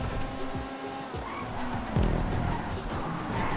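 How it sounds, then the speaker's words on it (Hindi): A car drifting in GTA 5 Online during a parkour race, its engine droning steadily with smeared tire-squeal sweeps and a louder surge midway, continuous and close throughout. "ड्रिफ्ट देखो इसकी, क्या आवाज आ रही है भाई ड्रिफ्ट में"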